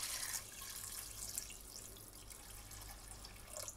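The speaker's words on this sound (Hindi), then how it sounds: "इसमें डालते हैं हम पानी अपना" Water poured from a tap or vessel into a pan of meat for cooking gosht, a faint continuous trickling and splashing stream, close but quiet with no talking.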